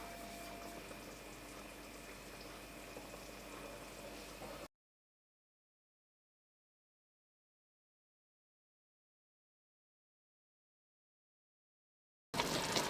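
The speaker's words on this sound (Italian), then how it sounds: "l'acqua salata sta bollendo" Salted water at a rolling boil in a pot, waiting for Tuscan pici pasta, gives a steady bubbling hiss for about five seconds, then cuts to silence before a brief return at the end.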